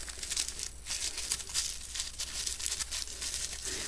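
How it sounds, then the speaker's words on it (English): A paper coffee filter shaped into a flower is crumpled by hand, giving a close, continuous dry crinkling and rustling with no talk. "all you do is you take it now and you crumple it up"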